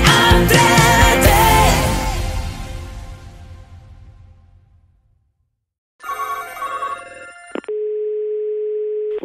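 A telephone line on a Spanish prank call: after a loud burst of music fades out, a steady ringing tone sounds alone, loud and continuous.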